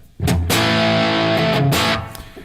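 Electric guitar on its humbucker played through a distorted 6L6 tube amp prototype at 2.7 watts, gritty sustained chords ringing loud and close, with a strummed attack and fading tail.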